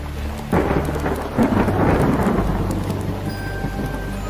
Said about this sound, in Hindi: अरे भाई, ये बारिश नहीं रुकने वाली।